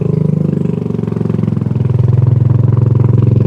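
A motorcycle engine labours steadily and loudly with a rough, pulsing thrum as it climbs a steep village road in Sindangkerta, West Bandung, the beat shifting lower and heavier partway through.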